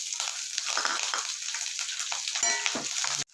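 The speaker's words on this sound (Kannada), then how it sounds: "ಇವಾಗ ಇದಕ್ಕೆ ಮೆಣಸಿನ್ಕಾಯಿ ಹಾಕ್ತಾಯಿದ್ದೀನಿ." Green chilies frying in hot oil with mustard seeds and curry leaves, a steady close crackling sizzle that runs throughout before cutting off abruptly at the end.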